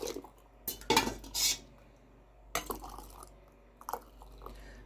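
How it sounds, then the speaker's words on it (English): A ladle clinks and scrapes against a pot and glass jars while dark green fir tip jam is spooned in, a few sharp close clatters separated by quiet pauses. "get a ladle and fill it in"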